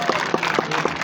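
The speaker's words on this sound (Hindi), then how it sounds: "एक बार जोरदार तालियां," Brief clapping from a crowd at a village gathering in Sirsa Kheri, Haryana, with a rhythmic, roughly regular beat of close, fairly loud claps over a low hum, lasting only about a second.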